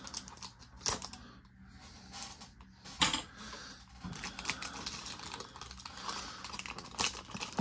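A pack of trading cards is opened at close range, with crinkly plastic wrapper and rustling bursts, small clicks and a few louder tears in an irregular rhythm.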